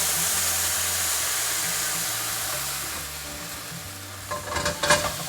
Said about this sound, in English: We're going to flambe it.